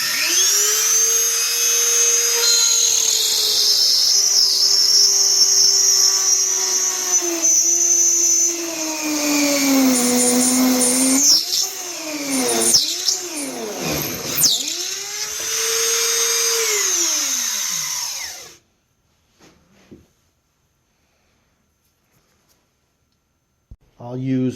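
A small rotary drill fitted with a bit whines at high pitch as it bores a starter hole into soapstone for a pipe, its pitch dipping and rising under load for about eighteen seconds before stopping, followed by near silence.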